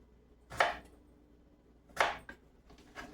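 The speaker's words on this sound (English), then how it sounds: "I just go down and chop it like I'm chopping strips. And then turn it the other way and chop it the other way into cubes" Knife chopping salmon into cubes on a cutting board for salmon hash: two sharp, close blade strikes about a second and a half apart, then a few softer taps, with no talking.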